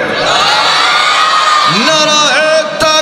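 A large crowd at an Islamic sermon by a preacher shouting takbir in unison, loud sustained voices that rise together in drawn-out tones, then a brief break and another swell.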